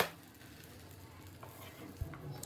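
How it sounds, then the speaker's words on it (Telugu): Millet dosa sizzling steadily on a hot pan, with a soft scrape as a ladle loosens its edges and flips it, close and moderately quiet. "దోశ కాలాక సైడ్స్కి గరిటతో చుట్టూరా లేపుతూ దోశను తిప్పేయండి"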